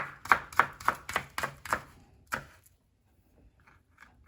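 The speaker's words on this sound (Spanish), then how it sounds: "Ahora voy a picar la cebolla." Onion being chopped as finely as possible on a board for a Honduran-style conch ceviche: about eight quick, sharp knife strikes in a steady rhythm, close and fairly loud, then a pause and a few faint taps.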